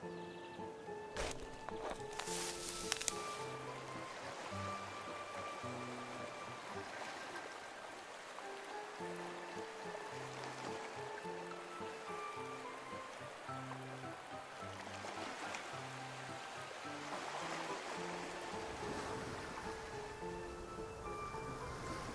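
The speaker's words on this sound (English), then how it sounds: "The sound of the waves seems to be getting louder." Ocean waves wash and churn steadily in a scene from the game Love and Deepspace, a soft continuous surf layered under gentle background music with a brief sharper splash early on.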